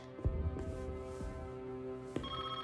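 A telephone rings in a French action film, one electronic ringing tone that holds steadily over a low hum of the film soundtrack, with a couple of soft thumps.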